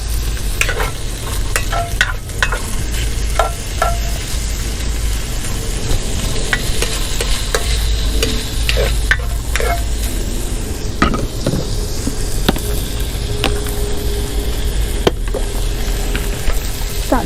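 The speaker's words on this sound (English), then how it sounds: "There's that sizzle." Food sizzles and crackles steadily in a hot pan, with occasional sharp pops and a few faint scrapes of stirring.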